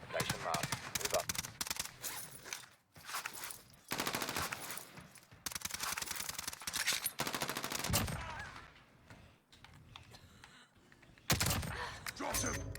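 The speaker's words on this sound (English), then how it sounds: "Taking fire!" Gunfire in the video game Call of Duty Modern Warfare Warzone: repeated bursts of automatic fire and single shots, dense and loud, broken by short pauses, with voices talking over parts of it.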